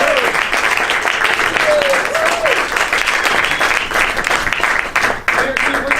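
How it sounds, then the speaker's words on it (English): Sustained applause from an audience at a live improv comedy show, dense steady clapping filling the room for several seconds, loud and close, with faint voices calling out underneath. "Give him a round of applause."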